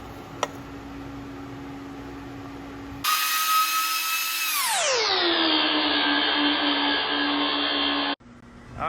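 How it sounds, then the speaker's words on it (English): A drill bores a 37/64 hole into the oil pan of a 2002 Lexus IS300 for a turbo oil drain: a loud whine starts suddenly, drops in pitch as the motor loads, holds steady, then stops. "hole has been drilled, tapped, and fitting is installed"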